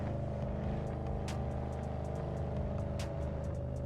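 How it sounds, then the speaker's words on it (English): A racing car engine in a video game drones steadily at a constant pitch, with a few brief sharp clicks on top and no talking. "The car sounds mean."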